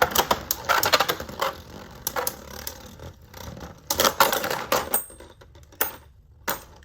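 Beyblade tops Spriggan and Fafnir clash in a plastic stadium, giving a rapid run of sharp clicks and metallic ticks that come in bursts over about five seconds, then fall quieter with a few isolated hits.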